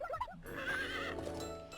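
Twilight the horse in Miitopia gives a loud, clear whinny with a wavering rise and fall, opening with bright neighing cries over a steady backdrop of game music and no talk.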